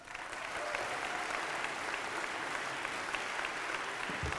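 Audience applause at a graduation ceremony, a dense, sustained burst of clapping from a large crowd that holds steady for several seconds.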